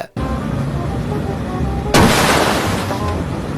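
A firecracker bursts against a car with a sudden loud crack about halfway through, its broadband burst lingering briefly over steady background noise.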